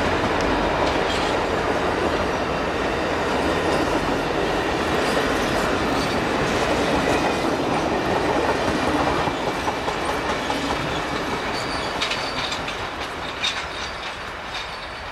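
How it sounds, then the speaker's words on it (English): A Toys for Tots freight train rolls past on the main line, a loud, continuous rumble with rhythmic clickety-clack of wheels over rail joints, close by and gradually easing toward the end, with no talking. "the Toys for Tots train made its way north into town."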